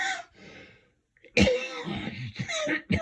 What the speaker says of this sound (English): I'm coughing as it's cold.